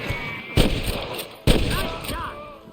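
Gunfire in the video game Red Dead Redemption: two loud, sharp shots about a second apart, each ringing out with a decaying echo, with faint background voices and game sounds.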